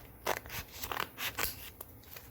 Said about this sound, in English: Now let's cut this part into two parts